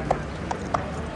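A horse's hooves clop in a slow, even rhythm, four distinct strikes over a steady background hum.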